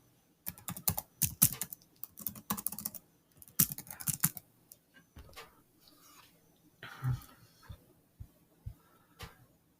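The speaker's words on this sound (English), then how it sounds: "let's just go into here real quick and let's type in this guy" Bursts of clattering keys on a computer keyboard, typed in quick irregular runs separated by short pauses, close and fairly quiet against a near-silent room.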